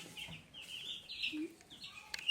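Day-old chicks and chickens being caught and carried by hand, giving short, faint clucks and chirps scattered over a quiet background, with one sharper squawk at the end.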